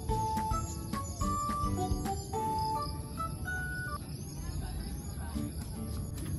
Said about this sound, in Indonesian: kayak suara burung, suara jangkrik